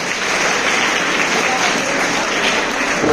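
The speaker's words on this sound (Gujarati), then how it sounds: "આપણે વિદ્યાર્થીઓને પ્રોત્સાહન આપશું તાળીઓ દ્વારા" An audience applauds to encourage students at an Ayurveda health session, a dense and even wash of clapping that stays loud throughout, with voices mixed in.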